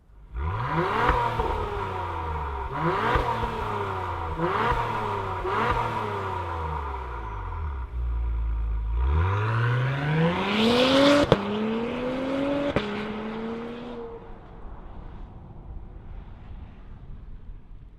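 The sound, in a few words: 2025 Acura TLX Type S starting and accelerating away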